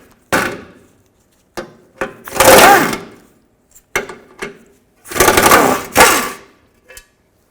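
Power ratchet with a 15mm socket removing four bolts from a shield on a Chevy Tahoe transfer case, several loud mechanical whirring bursts separated by short clicks and pauses.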